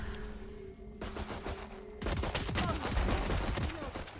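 Video game gunfire starts with scattered distant shots, then erupts into a rapid, loud fusillade of overlapping bursts that continues steadily to the end.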